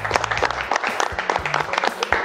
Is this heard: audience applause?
yes